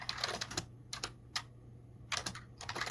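Typing on a computer keyboard, with bursts of quick close key clicks separated by short pauses, and no voices.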